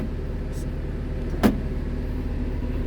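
SANY SY215C crawler excavator idling with the safety lock released, a steady low engine drone running throughout, broken by a short mechanical click or clunk midway, with no talk.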